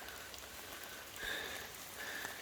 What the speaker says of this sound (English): the rain is making this path a little bit on the slippy side